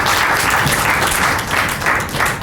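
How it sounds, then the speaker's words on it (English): An audience at a built-environment talent development talk applauds the speakers, loud dense clapping that swells and dips slightly but carries on throughout. "Round of applause."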